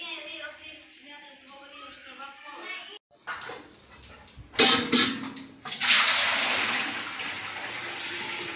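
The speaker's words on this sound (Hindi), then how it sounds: "थोड़ा गर्म पानी डाल लेता हूँ वरना अच्छा सर्दी लग जाएगी।" Warm water pours for a bath at home, a loud gushing splash and running stream that starts midway and continues to the end, after quieter sounds and a dog's faint bark.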